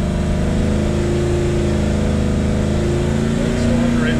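A cammed LS3 V8 in a fifth-generation Camaro with headers and cold air intake, running on a dyno: a loud, steady, lumpy idle-to-low-rev drone, close and continuous with a slight rise near the end.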